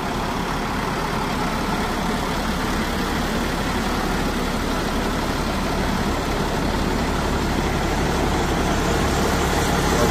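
A 1996 Loral Magnum 3000 fertilizer spreader engine runs steadily, a loud, constant low diesel drone with no change in pitch or pace.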